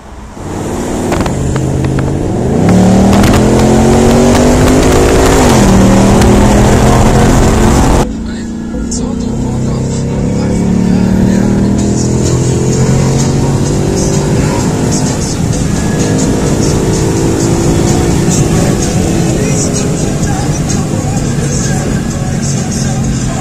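A Ford Mustang Boss 302 V8 engine roars loudly and steadily as the car accelerates, climbing in pitch and briefly dropping at a shift before pulling hard again.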